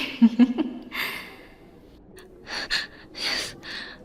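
Quick gasping breaths close to the mic in an intimate roleplay recording, a burst of sharp inhales at the start, then softer airy exhales and breaths spaced out over the following seconds.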